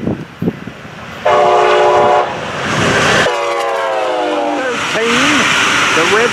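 Northbound train 721 passes close by, sounding a loud sustained horn in several blasts over a rumbling engine and rolling wheels.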